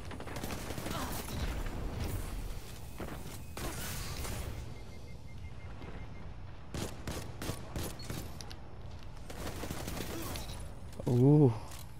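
Auto rifle fire in Destiny 2: rapid bursts of automatic shots recur across the stretch, mixed with other game sounds and some talk, with a louder mechanical noise near the end.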